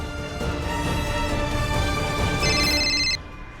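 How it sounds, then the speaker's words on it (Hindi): A telephone rings during a phone call in a Hindi TV drama scene, with a steady electronic ringtone tone running throughout over a background music bed and briefly rising toward the end. "शोभित भाई को फोन करती हूँ।"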